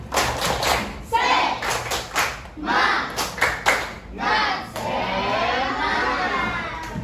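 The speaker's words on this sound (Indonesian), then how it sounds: "Kita tepuk semangat dulu ya." Schoolchildren doing the tepuk semangat spirit chant, bursts of rhythmic group clapping mixed with shouted chanting voices, then a stretch of crowd voices and cheering, close and loud.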